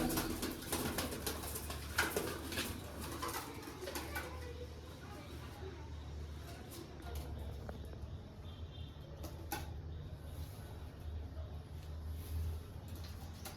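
Soft pigeon cooing murmurs in the background while people talk nearby, with faint rustling and distant noise throughout.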